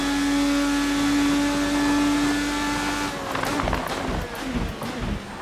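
A 2020 IndyCar in the racing game Assetto Corsa holds a high, steady engine whine, then drops off and changes pitch in quick shifts as it brakes and downshifts, with a voice talking over it.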